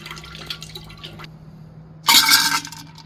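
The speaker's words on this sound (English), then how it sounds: "This is where I will pour the Coke." Coke splashes into a glass holding ice in one short, bright burst of pouring after a few quiet clinks and rustles nearby, with no voices.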